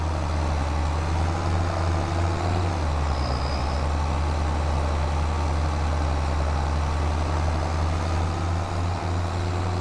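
A tractor engine drones steadily in Farming Simulator 25, a loud, constant low idle with a slight shift in pitch partway through and no talking.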